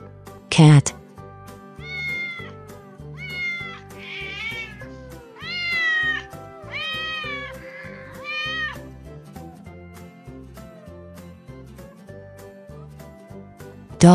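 A cat meows several times in a row, short rising cries at a moderate distance, bracketed by sharp clicks at the start and end.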